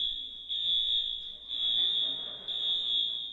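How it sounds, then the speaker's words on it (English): A fire alarm sounds in a church building, its loud electronic tone pulsing in three repeating beeps, roughly one per second, close and steady over faint room noise. "Fire alarm."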